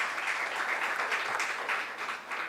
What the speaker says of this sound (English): with a round of applause, let's give them heartfelt thanks for such enriching session